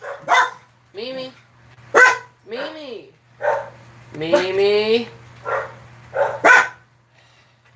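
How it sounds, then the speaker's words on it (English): A dog barks in a series of sharp and yelping bursts indoors, close and loud, while a person calls out between the barks. "Oh, sorry about that dog."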